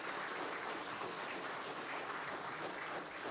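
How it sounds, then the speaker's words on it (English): A congregation at a morning worship service gives a sustained round of applause for Lisa, a dense, even wash of many hands clapping at moderate distance, with no talk over it. "So let's give Lisa a good round of applause."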